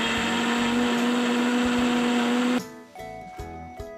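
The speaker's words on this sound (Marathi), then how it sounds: "मिक्सर मधून आपण ते जाडसर फिरवून घेऊ" A mixer grinder roars steadily as it coarsely grinds sweet corn kernels for vada, then cuts off partway through, leaving a few short clattering bumps and faint kitchen noise.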